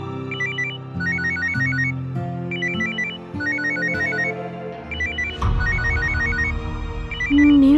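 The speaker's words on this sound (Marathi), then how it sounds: "Roshni darling, तुझाच phone वाजतोय." A mobile phone's melodic ringtone plays in a repeating pattern of electronic notes over a steady musical backing, loud and close, with no talking.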